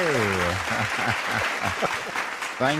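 A studio audience at a book review program applauds a guest author, a steady wash of clapping heard beneath a voice talking at the start and end.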